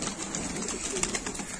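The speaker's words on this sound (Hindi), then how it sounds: "8:30-9 बजे हम कबूतर खोलते हैं और ये इसी तरह से हमें परेशान करते हैं।" Racing highflyer pigeons in Moradabad coo steadily just after being let out of their loft. The cooing is soft and continuous over a broad outdoor hiss, with no voices.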